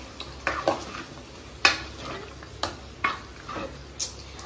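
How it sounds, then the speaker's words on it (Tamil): Mutton being stirred into a simmering curry in a pot, with repeated scraping and clinking strokes of a spoon against the metal over a faint sizzle, close by and with no talk. "இப்போ மட்டனை போட்டு நல்லா கிண்டி விட்டலாம்."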